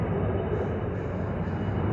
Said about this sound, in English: There's a lot of fucking helicopters out.